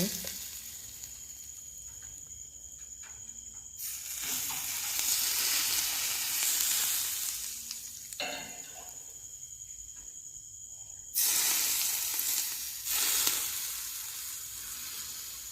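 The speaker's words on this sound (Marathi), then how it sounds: "आता सगळ्या मसाल्यावर असं हळूहळू करून आपल्याला टाकायचं आणि ते चांगले फ्राय व्हायला पाहिजे" Fenugreek seeds and spices sizzle in hot oil for a Khandeshi raw mango pickle, with a steady frying hiss that surges loudly in bursts as more ingredients hit the pan, no talk.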